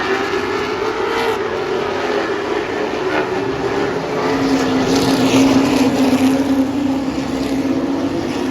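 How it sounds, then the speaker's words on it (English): A stock race car runs laps at Bowman Gray Stadium during a Stadium Stock night race, a continuous loud engine roar that swells slightly midway, heard from the stands with crowd noise underneath. "Here's the race car."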